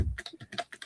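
Quick typing on a computer keyboard: about half a dozen crisp keystrokes in a fast, slightly uneven rhythm, close and alone with no talking.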